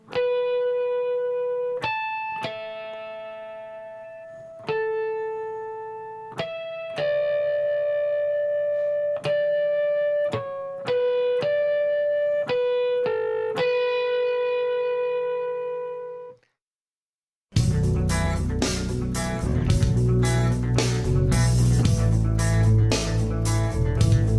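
An electric guitar plays the lick from Staind's Right Here slowly, single clean picked notes ringing one after another with pauses, then after a brief silence a louder, dense distorted passage takes over.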